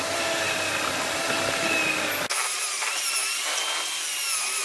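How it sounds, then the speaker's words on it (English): A wire brush scrubs a Rover 75 front brake caliper, making a harsh, continuous scraping roar close by. The tone shifts abruptly partway through and carries on steadily with no talk. "then we'll wire brush it like we've done with all the other bits."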